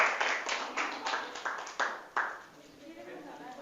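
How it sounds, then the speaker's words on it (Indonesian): A class claps for classmates who have finished their work, giving a quick run of fairly soft, overlapping hand claps that fade out after about two seconds, leaving low room noise and some background talk. "Boleh tepuk tangan dulu kepada yang sudah beres semuanya."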